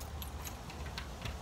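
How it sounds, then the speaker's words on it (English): Keys clatter to the ground in a few quick, faint metallic jingles, close by, against steady background noise with no talking. "Because, I dropped my keys."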